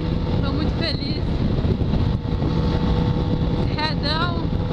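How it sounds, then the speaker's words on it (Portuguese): A 2013 Yamaha XJ6 motorcycle descending a mountain road, its engine a steady low drone buried under heavy wind buffeting, with brief rising whines from shifting revs. "essa é a nova moto aí que eu comprei"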